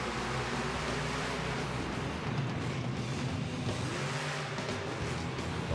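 Marvel's Iron Man monster truck roaring at a Monster Jam freestyle, a broad, loud engine rumble with arena noise that stays dense and sustained throughout.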